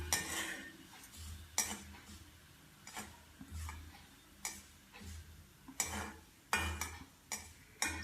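Urad dal frying and being stirred in a very heavy pan while making a karunai kilangu masiyal, with sharp metallic scrapes and clinks of a spoon recurring every second or so over a low, steady sizzle.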